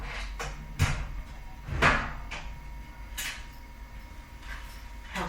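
Drawers and cupboard doors opened and shut during a search, making a few sharp wooden knocks and slides spread over several seconds against a quiet indoor background.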